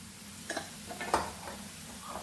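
Green chillies sautéing in a pan for bread pakoda filling, a quiet soft sizzle broken by a few light scrapes and stirring clicks, close and fairly faint.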